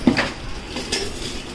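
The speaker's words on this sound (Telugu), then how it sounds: "ఇడ్లీ పాత్ర." A stainless steel idli vessel with four plates is handled, giving a sharp metallic clink at the start, then lighter knocks and a soft clatter of steel, close by and with no talk.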